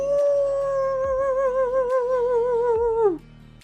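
A narrator's voice imitates a crazed banshee-like howl, a long wavering wail that holds steady for about three seconds before breaking off, with faint rhythmic engine-like thumps underneath.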